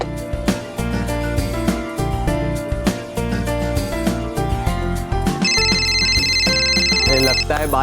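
A telephone rings loudly and continuously with a bright, repeated electronic trill over dramatic background music in a TV drama scene.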